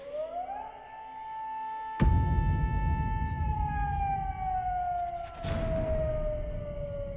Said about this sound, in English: Toru heard a sound that made his blood run cold. An air raid siren.